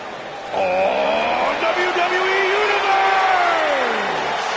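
A wrestling arena crowd in WWE 2K19 roars and whoops loudly and continuously, with rising and falling cheers swelling behind a commentator's voice.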